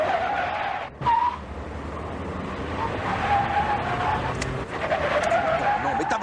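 Car tires screeching in a French action film scene from Dobermann (1997), a sustained squeal over a roaring engine and skidding noise, loud and close with a brief dip near the start.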